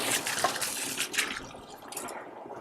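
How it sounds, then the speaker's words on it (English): A leaking garden hose splashes water steadily onto a plant, a close, hissing trickle that fades slightly toward the end. "My water hose leaks like crazy. So I'm just gonna let it water my plant."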